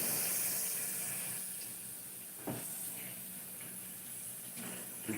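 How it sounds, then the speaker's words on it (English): Running tap water flows steadily as a hiss through a home while surfaces are wiped down, quiet and continuous, with a brief clunk near the middle and a louder bump at the end. "you gonna hear water all through my house. Cause honey, I use water to wipe down everything"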